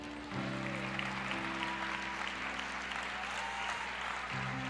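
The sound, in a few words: applause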